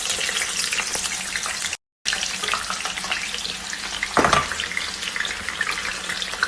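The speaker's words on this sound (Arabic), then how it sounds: "المهم بقلي بصل، البصل حق التقديم" Onions frying in hot oil for a fish and shrimp dish, a steady broadband sizzle running throughout, loud and close, with a brief dropout and a short splashy burst partway through.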